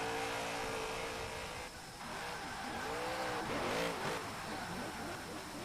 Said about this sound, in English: I hate that engine sound on Forza.